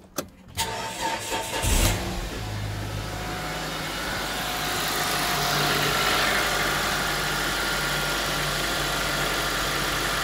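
A Mitsubishi Lancer CH engine cranks briefly, catches and settles into a steady idle after a valve cover gasket replacement, heard close up with no voices.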